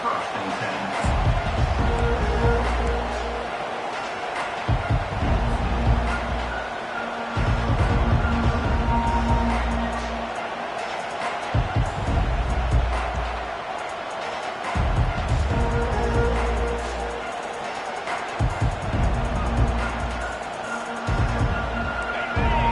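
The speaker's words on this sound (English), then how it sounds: "This crowd trying to show them what it's going to be like all day in this house" A packed stadium crowd at an Ohio State versus Texas college football game roars in continuous loud waves that swell and ease, while a commentator talks over the noise.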